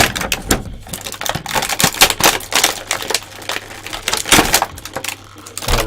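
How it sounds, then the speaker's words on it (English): Plastic packaging crinkling and crackling while an action figure of Twilight Sparkle from My Little Pony is unboxed, a close, loud, irregular run of sharp crackles and rustles. "This plastic is about to crinkle."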